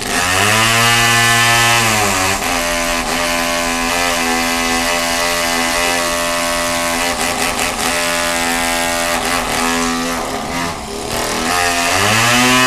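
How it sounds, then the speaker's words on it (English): A chainsaw engine runs loud and close, its pitch dropping and rising as it revs, steady buzzing throughout with no talking. "Turn on the chainsaw."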